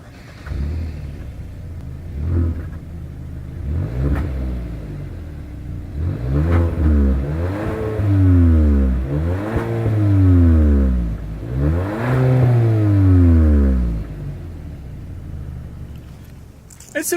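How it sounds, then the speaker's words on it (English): 2020 Hyundai Sonata SEL with single exhaust and chrome dual tips, idling low then revved several times in succession, each rev rising and falling smoothly, close and fairly loud before settling back to idle. "As always, here is that exhaust clip."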